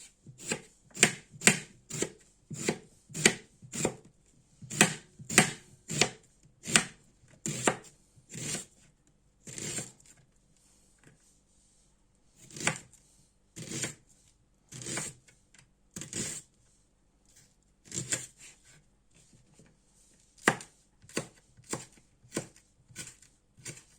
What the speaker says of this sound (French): Là maintenant, on va couper finement l'oignon.